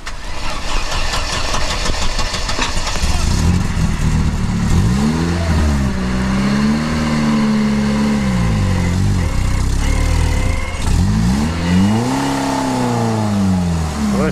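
A Lada Niva engine revving hard while pulling out of mud, close and loud with repeated rising and falling surges over a constant rumbling idle, no talk.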